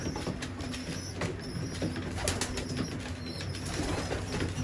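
Young pigeons weaning in a loft, repeated bursts of wing flapping mixed with soft cooing and scratchy movement, close and continuous at moderate volume.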